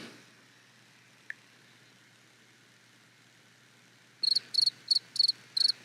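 Crickets chirping close by in short, rapid pulsed bursts that start abruptly after several seconds of near silence broken by one faint click; no one speaks.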